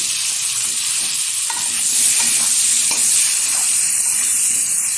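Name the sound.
potatoes frying in a pan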